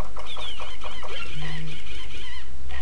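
Cartoonish chickens cluck in the Christmas edition of the Chicken Invaders 2 shooter game, with a quick run of clucks over constant game noise and a short electronic tone in the middle.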